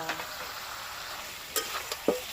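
A duck egg and potato curry is being stirred and fried, giving a quiet, steady sizzle with a few sharp utensil clinks against the pan near the end.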